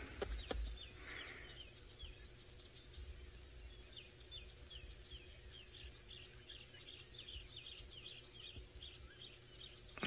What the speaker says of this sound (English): It's telling all the other birds to watch out that there's a leopard.